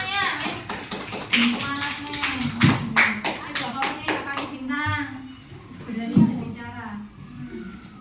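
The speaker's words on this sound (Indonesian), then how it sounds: "Tepuk tangan untuk kita semua." Hand claps ring out in an irregular burst of sharp taps during a primary school lesson, mixed with a child's and an adult's voices talking over and after the clapping.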